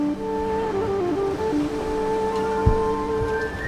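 Sea waves wash steadily onto the shore right outside a window of a seafront house in Israel, a continuous broadband surf wash with sustained tonal hum layered over it and a single brief thump midway.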